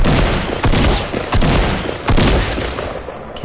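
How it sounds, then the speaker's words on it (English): Rapid bursts of gunfire from the video game Fortnite, loud and close, arriving in several sharp volleys roughly every half second to second with brief gaps between. "I heard another gunshot."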